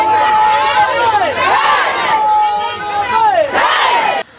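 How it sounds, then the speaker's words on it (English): Close to a thousand protesting market women in Bolgatanga chant war songs during a clash with police, a loud crowd of voices rising and falling in repeated sung phrases with overlapping shouts. "The police in the municipality moved in to control the crowd who were chanting war songs."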